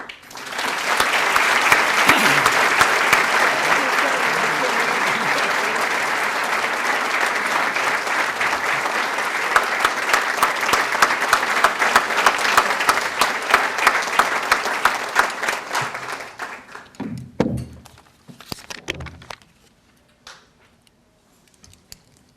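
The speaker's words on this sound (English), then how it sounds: "Your loudest applause, please, for Dr. Alice White." Loud, sustained audience applause at the Cornucopia 2015 award ceremony in Lubbock, Texas, a crowd clapping steadily for about fifteen seconds before thinning into a few scattered claps and falling silent.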